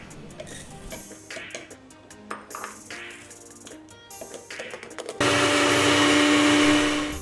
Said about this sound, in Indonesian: Kemudian kita blender hingga benar-benar halus.